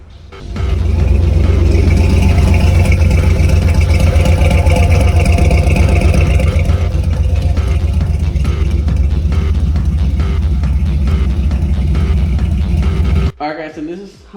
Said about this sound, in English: this is how the truck sounded the same day after the tune was done